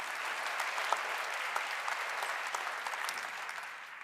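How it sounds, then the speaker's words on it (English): Conference audience at RootsTech clapping, a dense, even patter of many hands that stays steady throughout and eases slightly toward the end, heard from some distance. "that's definitely worth clapping for"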